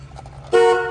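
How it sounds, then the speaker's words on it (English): A 1989 Chevrolet Camaro T-top's horn gives one short, loud honk halfway through, after a quiet idle-like hum. "Horn works."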